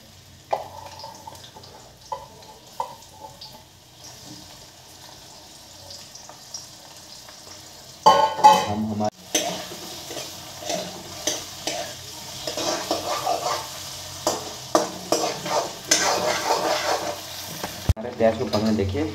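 Onions frying in hot vegetable oil for homemade chow mein, stirred in a pan: quiet at first with light clinks, then from about eight seconds a loud, steady sizzle with repeated scraping stirs, no talking.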